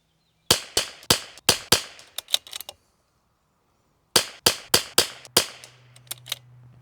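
.22 rimfire fouling shots from an RWS R50 rifle crack out in two strings, each of several evenly spaced sharp reports followed by a few quieter distant pops, loud and close with silence between and no talking.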